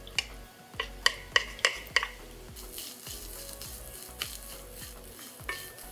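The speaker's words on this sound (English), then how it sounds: "Now I'm going to add the grated coconut." Grated coconut with chopped green chili, ginger and curry leaf sizzles steadily in a pan, with a few sharp utensil scrapes and stirring clinks at the start and more scattered taps later.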